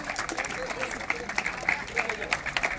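An audience at an under-17 boys' and girls' baseball competition applauds to welcome a guest, with steady, moderately loud clapping and a few sharper claps standing out near the end.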